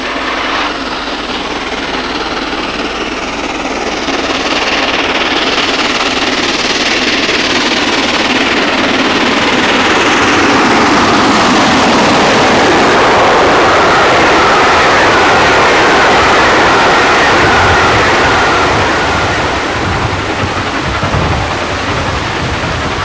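Steam locomotive Princess Elizabeth, a Princess Royal Class Pacific, labouring up the last yards to Aysgill Summit in the High Pennines in pouring rain; a loud, dense roar of rain and engine noise builds steadily for over twenty seconds.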